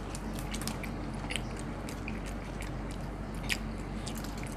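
Close, wet chewing and soft crunching of a spicy Thai hor mok dish made with banana stalk, steady mouth sounds over a low background hum.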